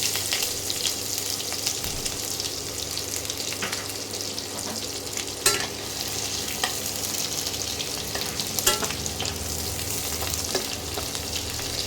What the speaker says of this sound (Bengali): এই যে একটা পেঁয়াজ কুচিয়ে রেখেছিলাম, ছোট সাইজের একটা পেঁয়াজ কুচিয়ে রেখেছিলাম, এই পেঁয়াজ কুচোনোটা দিয়ে দিলাম।